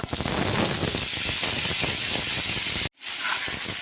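Papaya and potato pieces dropped into hot oil after fish has been fried, giving a loud, steady hiss and sizzle that cuts out abruptly for a moment near the end before resuming.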